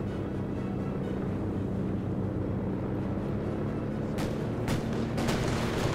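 Aircraft strafing run in Company of Heroes 2, a dense, loud rumbling roar of engine and gunfire across the whole stretch, with a few sharper cracks near the end.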